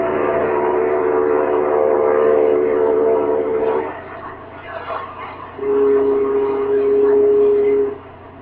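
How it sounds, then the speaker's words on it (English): A French ship's foghorn blares in two long, steady blasts, the first about four seconds and the second a few seconds later, loud and tonal over a low rumbling background on a liner at sea. "the French are treating us with decent traditional maritime respect, sounding their blaring foghorn to wish bon voyage"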